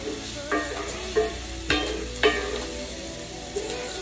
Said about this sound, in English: We're gonna go ahead and add in these onions. Get them a little stir.